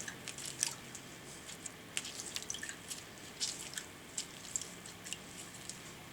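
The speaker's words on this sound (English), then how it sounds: "Squeeze in the juice of half a lime." Half a lime is squeezed by hand with a lemon squeezer, giving soft, faint, irregular drips and squishy spurts of juice in a quiet room.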